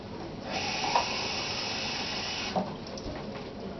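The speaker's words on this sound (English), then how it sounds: "I'll put a little bit more water in." Water streams steadily from a tap or jug into a pot of corned beef and cabbage, a soft hissing pour that runs for a couple of seconds and then tapers off.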